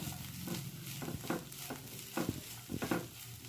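A spoon stirs fried coconut and coriander in a hot pan for methi bhaji, giving several scraping strokes over a soft, steady sizzle close by.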